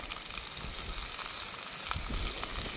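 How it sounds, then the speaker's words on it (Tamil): Onion, green chili and spices sauté in hot oil, a steady, close, hissing sizzle with soft crackles throughout and no talking. "அப்படியே வதக்கிடுவோம்."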